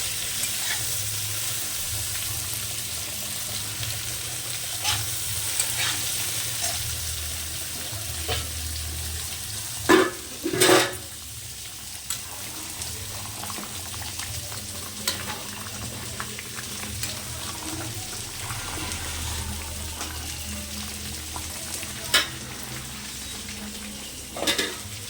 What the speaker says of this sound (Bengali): উচ্ছেটা প্রায় ভাজা ভাজা হয়ে এসছে।